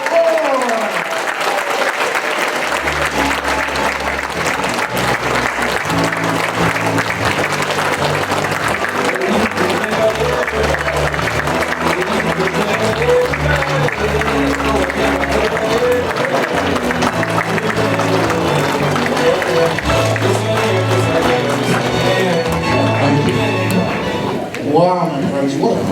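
A crowd at Doug Ford's campaign rally in Sudbury applauds and cheers continuously, loud and close, with steady clapping and music pulsing underneath throughout.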